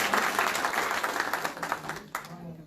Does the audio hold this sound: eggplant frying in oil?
no